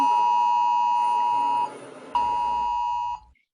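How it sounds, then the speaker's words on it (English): Amber Alert emergency tone from a phone's wireless alert system: a loud, steady electronic beep held for about a second and a half, a short gap, then a second identical long tone before it cuts off. "It is the Amber Alert sound."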